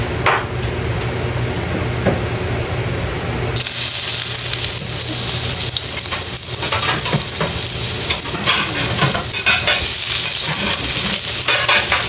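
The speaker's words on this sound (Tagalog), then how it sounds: "Lagay na natin ang ating bawang." Garlic drops into a hot pot for mapo tofu and bursts into loud, close sizzling, with a utensil stirring and scraping through the crackle and no speech.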